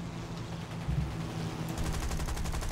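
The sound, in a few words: 30 cal rear gunner machine gun firing in War Thunder video game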